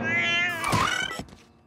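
A cat gives a drawn-out, rising and falling meow, close and clear, over a backdrop of music that fades out as the call ends.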